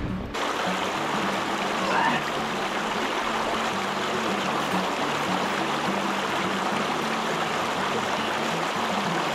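Steady, loud rush of a river stream flowing near Kalu Waterfall in Maharashtra, a dense continuous wash of water that holds unbroken for the whole stretch, with no other sounds standing out.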